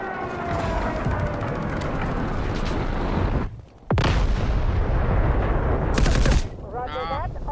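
An artillery barrage in the video game Delta Force: dense, continuous rumbling gunfire and blasts, a brief drop, then renewed heavy bombardment with a sharp burst and a siren-like whine, with some voice activity mixed in.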